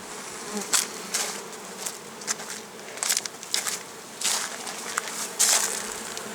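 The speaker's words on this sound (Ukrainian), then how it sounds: "Бджола працює, це не обльот." Honeybees working at hives in a late-summer apiary, a dense close buzzing with individual bees swelling loudly past again and again over a steady hum.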